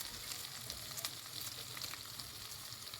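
Chopped onion fries in a spoonful of ghee and a little oil for a cabbage stuffing base, a continuous close crackling sizzle with a few light stirring scrapes and no speech.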